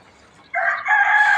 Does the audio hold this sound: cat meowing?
no